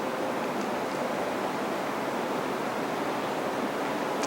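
Steady, even hiss of running water and a fan fills the room at moderate level without pause; no voices are present and no music stands out clearly.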